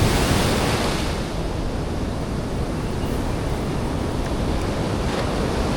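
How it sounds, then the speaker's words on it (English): Ocean surf at Surfers Paradise, Queensland roars continuously, rough waves breaking on shore with a broad wash of noise and some wind buffeting the microphone. "The waves are really bad."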